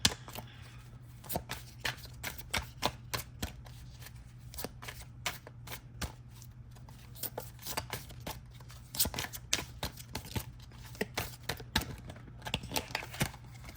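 Tarot or oracle cards being shuffled by hand, close and steady, with a continuous run of crisp riffling clicks and slaps that grow busier toward the end, with no one talking.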